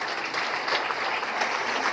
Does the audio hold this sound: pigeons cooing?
no